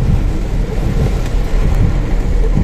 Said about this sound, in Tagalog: Umulan ng malakas, eh.